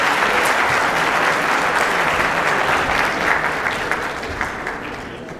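An audience claps for a doctor during a corporate presentation, a loud, close, crowded burst of applause that stays strong and then gradually tapers off.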